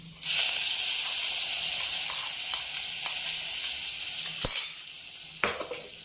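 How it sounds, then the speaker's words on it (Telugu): Curry leaves hit hot oil in a loud, sustained sizzle as the tempering is poured into lentil dal, with a couple of short clinks and spitting bursts near the end. "కరివేపాకు, దీంట్లో కలుపుకుందాం, పప్పులో కలుపుకుందాం అండి."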